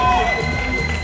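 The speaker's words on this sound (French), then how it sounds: "Faites du bruit pour lui, s'il vous plaît." Crowd at a Paris bodybuilding contest cheering and shouting for a contestant, a brief loud burst of voices.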